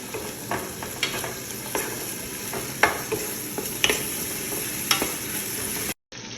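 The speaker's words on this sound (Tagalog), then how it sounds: "nilagyan ko na rin siya ng konting oil at ilaan ko na itong hiniwa kong onion. Mix ko lang siya." Sliced onion sizzling in a little oil in a pan, a steady close hiss of frying throughout, with the regular knocks and scrapes of a utensil stirring it, no voices.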